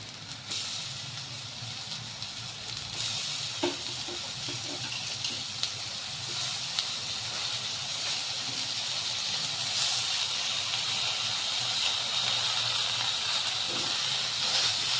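Chopped dill greens (shepu) dropped into hot masala in a pan, giving a steady, loud, broad sizzle and hiss that holds evenly throughout, close up, with a few faint stirring knocks and no speech.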